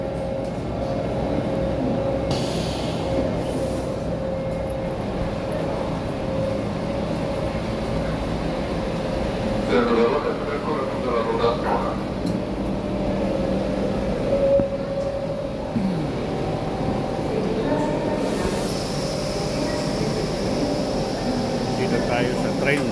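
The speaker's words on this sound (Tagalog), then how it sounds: "Dito tayo sa train, nakasakay na tayo." Riding inside a moving train, a steady loud rumble and hum of the carriage with occasional rattles and squeaks, and people talking now and then.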